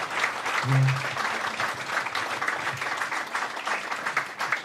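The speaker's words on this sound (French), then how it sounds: "Donc on peut applaudir bien fort l'association." A hall audience at a Port-de-Bouc event claps steadily and densely for the association La Maison entre Ciel et Terre, the applause sustained throughout with a brief low voice near the start.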